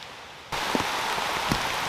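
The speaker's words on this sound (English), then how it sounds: "Okay, it's raining pretty doggone good, as you can see." Steady rain pours onto a poncho outdoors during a heavy downpour, a dense hiss that starts abruptly and continues throughout, with a couple of louder drops or taps standing out.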